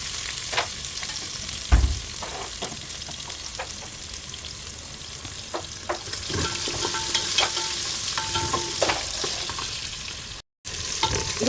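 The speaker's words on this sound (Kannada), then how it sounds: "ಇದು ಬ್ರೌನ್ ಆಗೋದಂತ ಫ್ರೈ ಮಾಡ್ಕೋಬೇಕು." Chopped onions frying in hot oil with mustard seeds in a pan for a fish masala, a steady close sizzle broken by occasional stirring scrapes and clinks of a utensil.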